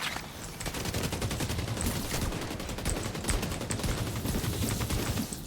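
Rapid automatic gunfire from the video game The Division 2 rattles in dense, continuous bursts, loud and close, with overlapping shots and sharp cracks across the whole stretch.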